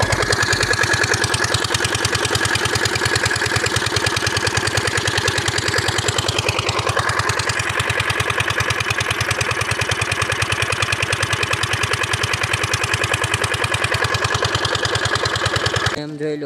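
An irrigation water pump engine runs on a farm field, a loud, steady, close mechanical chug at an even idle-like rhythm that continues unbroken until it cuts off at the very end.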